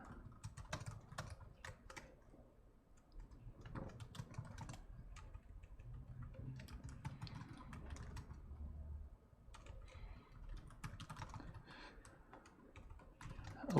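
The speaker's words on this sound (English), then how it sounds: "let me try to just type in the chat here" Typing on a computer keyboard, a close, quiet and irregular patter of key clicks that runs throughout with a low hum underneath.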